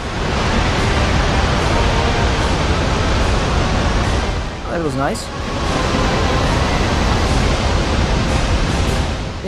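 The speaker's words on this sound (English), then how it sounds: "Oh, is that another waterfall? It is another waterfall." A waterfall in the Sky Odyssey flight game sends up a steady, loud broadband rush of water, with a brief dip partway through as someone speaks over it.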